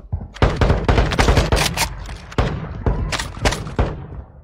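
Rapid bursts of video game gunfire crackle in a dense, loud fusillade, volleys of shots and heavy thuds overlapping with short pauses between clusters, a few faint voice traces underneath.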